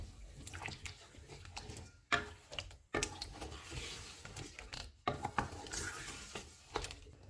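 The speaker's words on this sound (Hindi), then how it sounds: "इसमें फेंटा हुआ दही डालेंगे, इसको अच्छी तरह मिक्स करेंगे।" Whipped yogurt stirred into biryani masala in a pot over a low flame, with a spoon scraping and clinking against the metal in irregular strokes and wet squelching between, close and fairly quiet.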